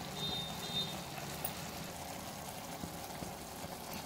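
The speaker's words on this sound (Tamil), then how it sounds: "உப்பு நம்ம ஆல்ரெடி ஆட் பண்ணிட்டோம், தண்ணி ஆட் பண்ணிக்கலாம்." Water pours steadily into a pot of millet sambar rice while cooking, a soft, continuous stream with a light gurgle, fairly quiet and without talk.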